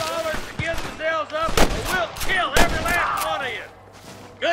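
Sniper fire at a bridge in Red Dead Redemption: several sharp rifle shots crack at irregular intervals, loud and close, with distant echoing pops, while someone talks between the shots.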